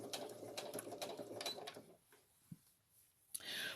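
Home sewing machine stitching a girl's dress, a steady fast whirring run that stops partway, followed by quiet with a couple of small clicks and a soft handling rustle.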